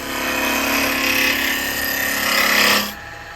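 Wood lathe spinning a spalted wood vase blank at just over 2,000 RPM, a loud, continuous broadband whir with a steady low hum, running alone for nearly three seconds before cutting off to quiet room noise.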